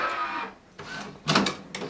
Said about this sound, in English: you can hear our printer going into action here.